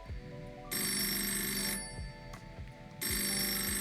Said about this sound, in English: I just waited for Blake to actually receive a phone call from this phone